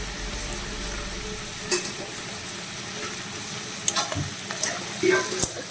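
Cauliflower leaves sizzle steadily in a frying pan while a spoon scrapes and stirs them, with a few sharper clinks of utensil against the pan over the low, continuous frying hiss.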